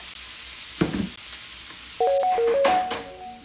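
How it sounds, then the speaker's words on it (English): Peppers and onions sizzle in a buttered pan, a soft steady crackle with a brief stirring scrape, followed by a few faint electronic beeps near the end. "While my onions are sauteing and my peppers and they're sweating out"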